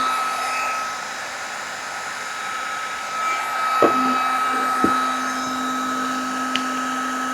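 A new heat tool blows hot air as it heats up, a steady hair-dryer-like whoosh with a constant high whine and a few light clicks and knocks partway through. No one speaks.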